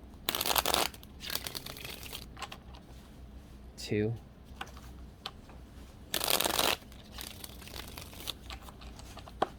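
Tarot cards are riffled in a few short, crisp bursts separated by pauses, close up, with a person speaking briefly between them.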